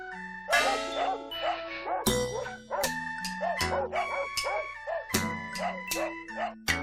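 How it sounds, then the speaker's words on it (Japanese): Several dogs bark in quick, overlapping bursts, loud and close, with yips and yelps mixed in, over a faint bright musical backdrop; a sound effect in a Japanese ghost picture-book reading. "あれ、犬が騒いでいる。"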